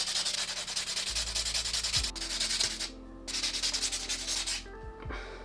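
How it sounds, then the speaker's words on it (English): A buffing block rubs back and forth across a nail during hard gel extension prep, producing close, loud, rhythmic scratchy strokes in several bursts with brief pauses, no talking. "I'm actually gonna buff it with this like buffing block"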